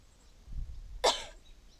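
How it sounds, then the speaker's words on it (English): A single short cough from a person, fairly close and sharp, after a moment of quiet room tone and a faint low rustle. "Skittles always make me cough"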